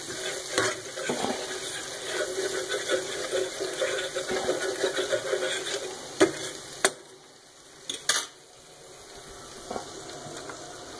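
Garlic and anchovies sauté in olive oil for linguine con aglio, olio e acciughe, giving a steady close sizzle and crackle broken by a few clinks and knocks near the end.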